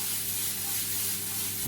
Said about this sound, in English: So that's my bell pepper. Sizzling nicely. You hear that?